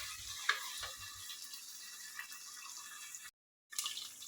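Raisins (munakka) fry faintly in a pan for chicken biryani, a soft, steady sizzle with a few light stirring clicks and a brief silent gap near the end.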